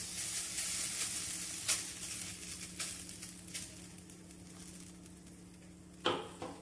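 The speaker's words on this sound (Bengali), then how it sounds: "দিয়ে এটাকে আমি ভালো করে ভেজে নেব।" Ground moong dal frying in a pan, giving a faint steady sizzle with a low hum underneath and a few scattered stirring scrapes, ending in one sharper scrape near the end.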